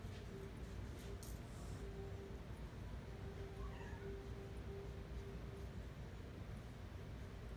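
Cats meow faintly in a quiet indoor room during a drawing lesson, with a few short, soft calls over a low background hum.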